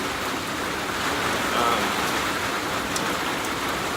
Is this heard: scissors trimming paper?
no